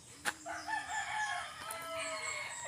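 Rooster crowing with chickens clucking at a Philippine home's chicken coop beside a road; a steady crow carries over the clip, loud and fairly close, with a sharp brief bird call near the start.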